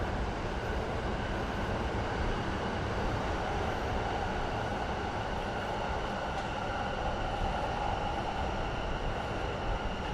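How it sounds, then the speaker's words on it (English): A Chuo Line train in Tokyo rumbles past steadily, a continuous loud roar of wheels and motor that holds for the whole stretch, on a windy day. "Ah, there's the Chuo line train."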